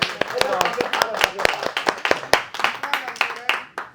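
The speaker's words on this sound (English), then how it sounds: "Can we clap?" A small group of people in a nightclub claps in loose, uneven bursts, sharp individual hand claps close by, with voices talking and laughing between them.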